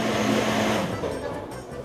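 A blender whirs loudly and steadily, mixing a cake batter of milk, butter, coconut, sugar and flour, then eases slightly lower toward the end, with no talking.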